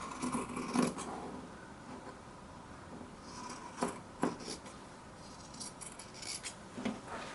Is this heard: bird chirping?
no